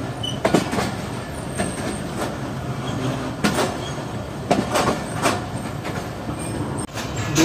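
Train standing at a railway station platform, the Allama Iqbal Express, with a steady rumble and scattered metallic clanks and thumps from rail cars, fairly loud and continuous with no talk.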